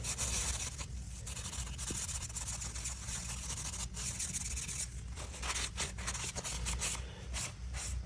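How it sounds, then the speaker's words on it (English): Soft, continuous rubbing and scraping of a steel wool pad scrubbing surface rust off a metal tool, close up. The strokes are fairly quiet, with some faster, choppier scrubbing toward the end. "steel wool pad. This is a little bit more aggressive, and it'll finish taking any of the residue right off."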